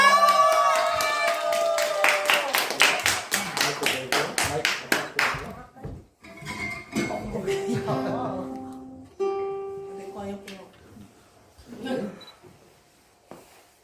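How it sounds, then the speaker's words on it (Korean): An audience at a Christmas program claps before a ukulele performance, a rhythmic run of hand claps over sustained tones, then scattered claps among voices and musical notes as the applause winds down. "여러분들 함께 다시 한번 박수해 주시기 바랍니다."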